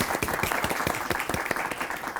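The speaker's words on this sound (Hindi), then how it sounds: "मोहम्मद आमिर के लिए तालियां।" A studio audience claps for cricketer Mohammad Amir on a sports talk show, a dense, even burst of applause lasting a couple of seconds with no voices over it.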